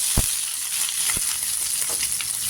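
Chopped onions hit hot oil already crackling with cumin seeds, giving a steady bright sizzle with a couple of low thumps as they drop in, close and with no talking.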